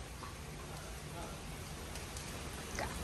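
Steady, faint rain falling outdoors at a seaside market in Mactan, a soft, even hiss of drops with no distinct pattern and a brief rustle near the end.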